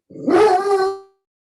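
A single dog lets out a brief, tonal howl that rises and then trails off into a whimper, close and fairly loud, with no talking over it.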